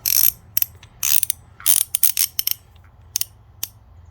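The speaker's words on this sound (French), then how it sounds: "Alors ça se desserre facilement avec une douille on va regarder ça, avec une douille de 36." Ratchet wrench with a 36 mm socket loosening a nut during a brake disc and wheel bearing job on a Citroën C3 II, heard as close bursts of rapid clicking in short, irregular strokes, with no talking.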